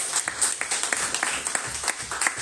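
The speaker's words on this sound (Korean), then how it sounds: "우리 신경주 권사님에게 큰 박수 한번 드리겠습니다" A church congregation applauds its committee chair and a deaconess during a Sunday worship service: a modest, steady patter of hand claps in a room, fairly even throughout with slight swells.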